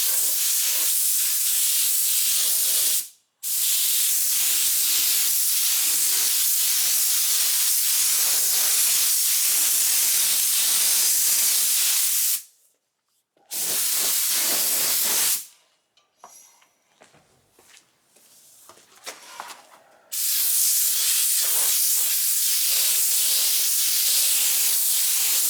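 Spray gun hissing steadily as primer goes onto the bumpers of a 1977 Camaro Z28, loud and close in long continuous bursts with brief pauses and a quieter rattling stretch between passes.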